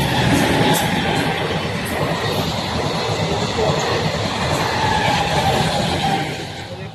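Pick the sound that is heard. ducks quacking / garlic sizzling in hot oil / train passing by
train passing by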